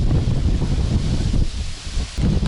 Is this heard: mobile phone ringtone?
no